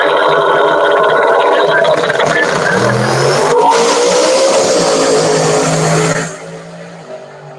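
Drag race on a racetrack between a C10 pickup truck and a Ford Mustang: loud, close engine roar that climbs steadily in pitch as both accelerate hard, then drops off sharply near the end as they pass.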